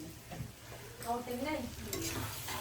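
Mutton ghugni being stirred and sautéed in a pan, a faint sizzle under soft scraping and stirring strokes, with some quiet background sound.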